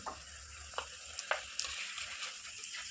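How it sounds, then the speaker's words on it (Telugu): Corn flakes frying in hot oil in a pan on a stove, a soft, continuous sizzle broken by scattered crackles and pops, heard close up with no talking. "ఇప్పుడు నెక్స్ట్ కాన్ఫ్లెక్స్ వేసుకుంటున్నాను నేను స్టవ్ ఆన్ ఫ్రైలో పెట్టుకొని"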